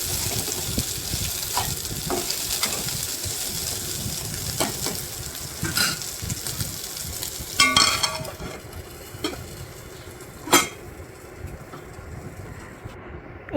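Jackfruit seeds fry over a low flame with garlic and chilli while being stirred in a pan, producing a soft, steady sizzle broken by scattered clicks and scrapes of the spoon.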